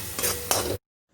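Chilli bread mixture sautéing in a pan, a short burst of sizzle and spatula stirring with two brief scraping strokes before cutting off abruptly.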